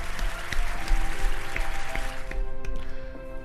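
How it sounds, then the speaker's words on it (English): A canned applause sound effect from an applause button plays, a continuous wash of crowd clapping that holds steady for a few seconds at moderate level. "I have an applause button, and I'm gonna use it."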